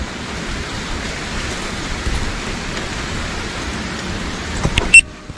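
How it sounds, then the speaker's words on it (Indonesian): Steady rain hisses without pause during a giant river prawn fishing outing, a dense, even wash of drops that stays level throughout, with a short louder knock near the end and no voices. "Mumpung hujan-hujan nih"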